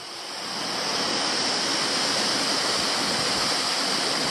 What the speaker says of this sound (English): I've made it to the amazing Larapinta Falls.